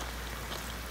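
Steady rain falls on a mountainside, a dense even hiss with no breaks, loud and close for under a second, with no voices.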